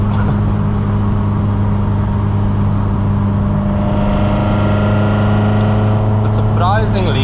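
A VW Mk2 16v engine on individual throttle bodies with Pipercross filters, droning steadily from inside the moving car with a loud low intake hum that rises in pitch midway, and a brief squeak near the end.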